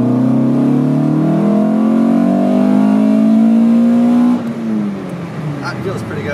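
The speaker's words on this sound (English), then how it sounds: "give it a little bit of gas in second gear" A 1983 VW Rabbit GTI engine, tuned to an estimated 250 hp, revs steadily upward in second gear with a rising, loud mid-pitched drone, then drops off sharply as the throttle is released near the end.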